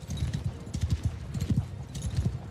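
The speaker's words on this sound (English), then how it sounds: "He had a cool horse as well." Horse hooves clip-clopping at a steady walking pace in a Warhammer fantasy game mod, the clear rhythmic knocks standing alone and fairly close without talk.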